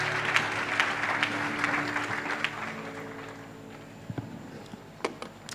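A church congregation claps for its singers, steady dense applause that gradually thins and fades, leaving a few scattered claps near the end.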